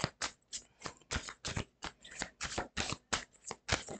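Tarot cards being shuffled and drawn, a quick run of crisp riffling flicks in an even, rhythmic pattern, close and fairly quiet with no talking.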